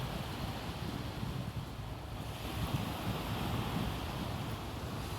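Sea waves surging in at high tide on a beach, a steady broadband wash of surf with wind noise buffeting the microphone, continuous and fairly close with no voices.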